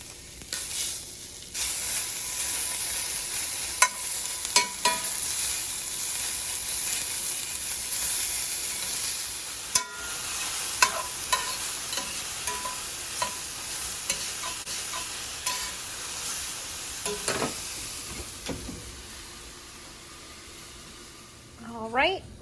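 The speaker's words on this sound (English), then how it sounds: "I've got the rest of the mushrooms and onions that I just sauteed in there" Mushrooms and onions sauté in a pan, giving a soft steady sizzle broken by occasional stirring scrapes and clinks, close up and alone.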